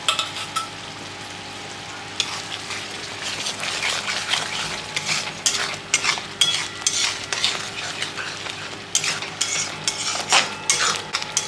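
Spices with salt, turmeric and Kashmiri chilli powder fry in oil in a pan for potato and egg koftas, a steady sizzle broken by frequent scraping and clinking of a stirring spoon against the metal.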